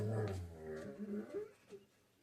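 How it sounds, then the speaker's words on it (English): Dogs whimper and growl softly in the background at a low level, in a few short, uneven bursts. "Sorry if you can hear my dogs."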